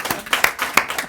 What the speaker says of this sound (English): I think we should all give ourselves a round of applause for that.